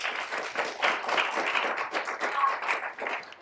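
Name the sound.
audience applause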